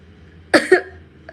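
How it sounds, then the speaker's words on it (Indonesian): A single close cough, sharp and short with a second burst, followed by quiet. "Batuk guys."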